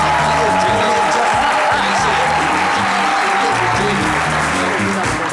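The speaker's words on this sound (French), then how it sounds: "couloir d'applaudissements pour lui" Studio audience applause welcoming a guest on a midday talk show, a sustained, even round of clapping with music running underneath throughout.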